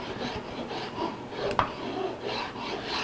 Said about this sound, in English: quality rasping actually makes a difference